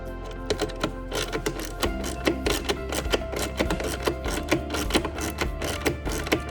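A ratchet fitted with an extension turns Torx T20 screws out of the air filter housing on a 2022 Mercedes GL350 with a 2.0L turbo M264 engine, making rapid, continuous close-up clicking.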